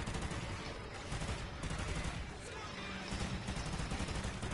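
Video game gunfire pours out in dense, rapid, continuous bursts as a player unloads on a gargoyle, loud and saturated for the whole stretch, with a faint voice under the shooting.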